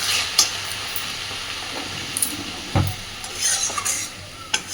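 Cabbage curry for a vegetarian Bengali bhog cabbage ghonto being stirred in a pan: a soft, steady sizzle with a few scraping spoon strokes, one louder knock near the middle, and no voices.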